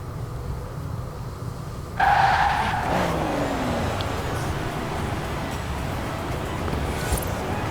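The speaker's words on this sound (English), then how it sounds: "Now with the stock motor, kind of a little slow at first until that turbo kicks in." A 1992 GMC Typhoon with turbocharged engine drifts in the racing game Forza Horizon 4, its engine droning with a sudden louder surge and tire noise that then settles into a steady rumble.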